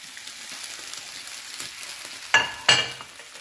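Pasta fries in garlic olive oil with parsley under a steady, soft sizzle, then two louder bursts of hissing crackle arrive close together as it is tossed in the pan.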